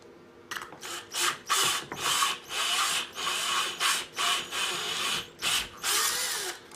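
A big step drill bit bores a hole in a series of short, loud, whining bursts, about a dozen pulses in quick succession, close up and with no speech.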